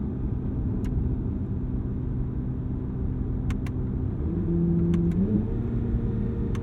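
A 2023 Chevy Corvette Z06 with a flat-plane V8 drones steadily from inside the cabin, a low rumbling hum that swells with a brief rising engine note midway, with faint clicks scattered throughout and no talk.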